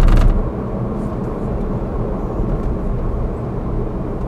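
Wheels of a Wuling Air EV fitted with light sound-deadening rumble steadily over the road surface, a continuous low, dense roar close inside the cabin with a slightly heavier thump at the very start.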